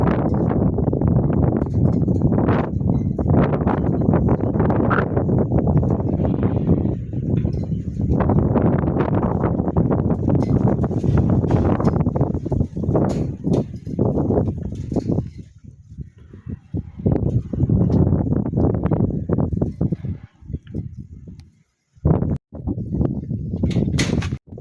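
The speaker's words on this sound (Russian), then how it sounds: "Скрипит даже забор." Strong gusty wind after a cold front passes during a blizzard, roaring and buffeting the microphone in loud surges, with an outdoor fence creaking under the gusts and brief lulls near the end.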